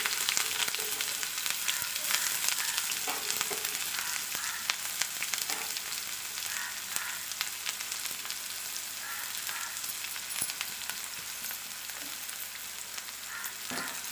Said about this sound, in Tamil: இப்போ வந்து நம்ம இதில் வெங்காயத்தை ஆட் பண்ணிக்கலாம்.